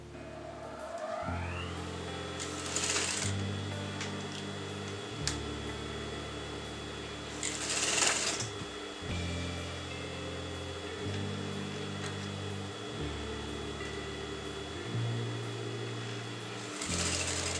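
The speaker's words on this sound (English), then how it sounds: "Place it little by little, and I'm sewing this together" A sewing machine stitches piping onto a wedding designer blouse in a series of short runs of a few seconds each, its motor whirring close by with brief stops and rustling of fabric between stretches.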